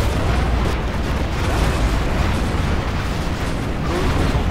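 Particle cannon superweapon firing in Command & Conquer Generals Zero Hour, a loud continuous roaring blast with rumbling, explosive texture sustained throughout, no talk over it.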